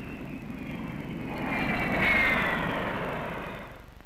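A Convair F-106 jet aircraft making a 1959 speed record run roars past, its jet noise swelling to a loud peak near the middle and then fading slightly, with steady broadband rumble and no voices.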